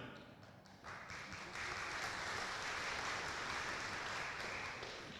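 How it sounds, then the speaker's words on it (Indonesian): Church congregation applauding, a soft scattered clap that swells into steady, moderate clapping from the crowd in the room, with a sharp bump right at the end. "Tepuk tangan orang beriman."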